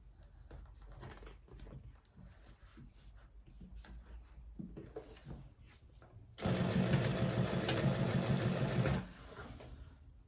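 A sewing machine stitching handbag lining at a 2.5 stitch length runs in one steady, loud continuous burst of about two and a half seconds, preceded by quieter handling noise.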